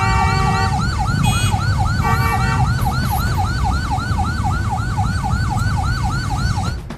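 An ambulance siren wails continuously in a fast rising-and-falling yelp, loud and close amid traffic congestion where a military convoy passes, with engine rumble underneath.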